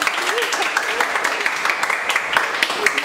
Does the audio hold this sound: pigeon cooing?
no